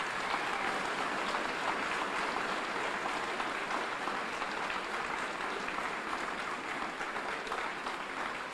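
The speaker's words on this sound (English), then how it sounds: "let's give our entire staff a big round of applause." Children and adults at an elementary school ribbon cutting give a long, steady round of applause, a dense wash of clapping holding evenly for several seconds with no talk over it.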